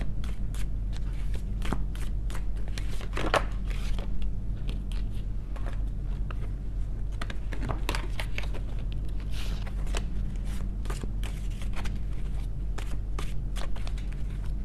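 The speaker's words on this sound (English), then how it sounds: "These cards are so hard to shuffle." Tarot cards are shuffled over and over, a series of soft riffling clicks and slaps with a low hum beneath, close by.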